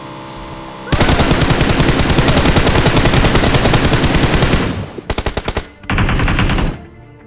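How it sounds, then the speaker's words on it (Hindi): Automatic weapon fire in a shooter video game: a loud, rapid sustained burst of about four seconds, then a few short staccato shots and another brief burst, all very close and with no talking. "तो फिलहाल सामने से फायर आई"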